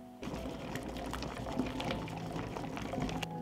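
Water boils in a pot holding jars for pasteurizing, a close, steady rumbling bubble with a faint hum underneath that starts abruptly and continues unbroken.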